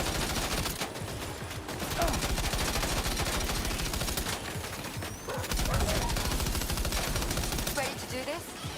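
Dense, continuous gunfire in the video game Death Stranding 2, rapid bursts and volleys running nearly unbroken throughout at loud, steady level, with brief dips in intensity.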